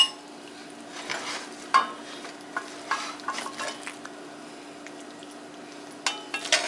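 A slotted spoon scrapes and clinks as cooked beef is lifted from a sizzling pan into a bowl, with a run of irregular metallic taps over a quiet frying hiss.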